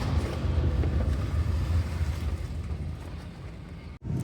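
A lifted Suzuki Jimny with a 3-inch suspension kit rolling over bumpy ground, a loud continuous low rumble and road roar from inside the cab with a brief dropout near the end.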